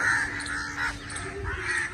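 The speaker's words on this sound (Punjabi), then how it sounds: "ਕਾਂ ਆ ਗਏ, ਉਹ ਕਾਂ ਜਮਾ ਹੋ ਗਏ" Several crows caw nearby in repeated harsh calls, overlapping in a loose irregular rhythm over a low outdoor background.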